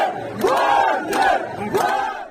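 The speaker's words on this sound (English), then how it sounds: "People came out on the streets and cheered them." Street crowd in Rostov-on-Don cheering Wagner mercenaries, with loud rising shouts and whoops coming in three waves over a continuous roar of many voices.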